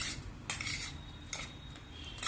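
A spoon stirs salsa of chopped coriander, salt and lemon juice in a bowl, with a few quick clinks and scrapes of metal against the dish, close and clear, no talking.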